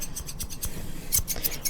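Barbershop scissors snip in a quick irregular series of crisp metallic cuts, close and clear, with a brief flurry of faster snips near the end.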